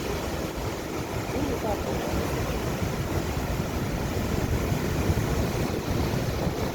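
Sea waves wash onto a sandy beach in a steady, loud roar, with heavy wind buffeting the microphone and no clear breaks between surges.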